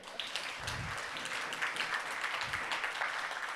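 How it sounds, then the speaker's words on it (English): A conference keynote audience applauds steadily, a dense and even wash of many hands clapping throughout. "Let's clap for Hugh again"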